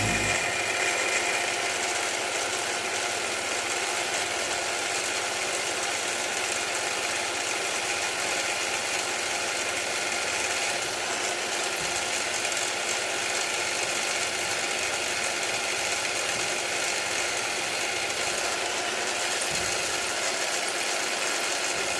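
A drill bores an M4 clearance hole for a cap head screw in a live steam model workshop, a steady continuous whine with motor hum running unbroken at even loudness throughout, with no talking.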